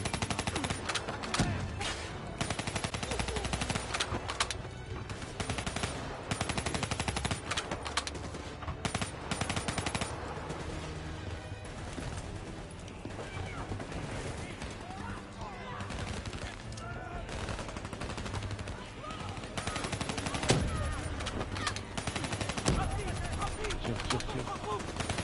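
Call of Duty: Black Ops campaign firefight with dense, continuous bursts of automatic gunfire and explosions crowding the whole stretch, loud and close, with voices speaking beneath the shooting.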